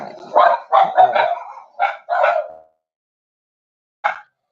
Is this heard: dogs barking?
yes